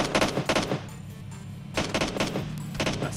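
Rapid bursts of automatic gunfire from the PUBG Mobile battle royale game, three loud clustered volleys separated by short quieter gaps.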